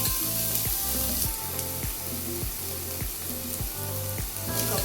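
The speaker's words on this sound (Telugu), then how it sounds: "ఇవన్నీ లో ఫ్లేమ్లో వేయించుకోవాలండి." Bitter gourd and onion frying in a pan over low flame, a steady close sizzle with a faint regular tapping running through it, and no voices.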